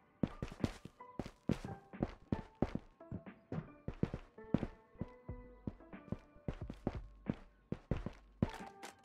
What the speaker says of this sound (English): besides the bot's footsteps